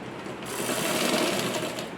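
Electric sewing machine stitching blouse fabric, a short, fast, even whirring burst that starts abruptly and runs close and loud for under two seconds.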